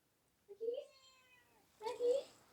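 Pet cats meowing indoors, two separate plaintive meows close by with a pause between them, quiet and alone.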